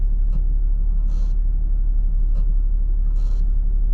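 Brake noise from newly upgraded big brake kit on a Nissan 370Z, heard as a few brief hissing squeal bursts repeating over steady low road and engine rumble while driving.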